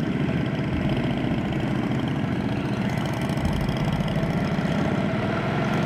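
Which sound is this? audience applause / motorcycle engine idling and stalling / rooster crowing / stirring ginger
motorcycle engine idling and stalling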